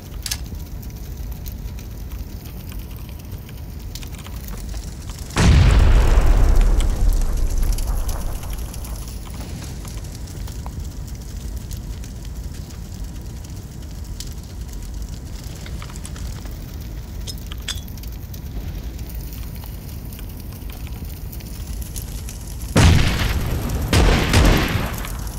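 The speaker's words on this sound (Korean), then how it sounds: "바로 수류탄." Grenades explode in PUBG Battlegrounds, one heavy boom with a rumbling tail early on and another deep blast near the end, heard over a steady background of wind and ambient noise.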